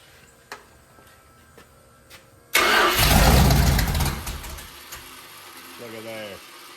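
A Mopar 400 stroker V8 built out to 500 cubic inches fires up for the first time after a few quiet clicks, roaring loudly and then settling to a rough idle, with a voice speaking briefly near the end.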